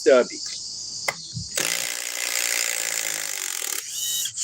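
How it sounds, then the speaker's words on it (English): A stubby impact wrench runs in reverse, a loud continuous whirring buzz lasting about two seconds after a few short clicks and taps, then cutting off before a brief final burst. "We all know impact wrenches are quicker in reverse."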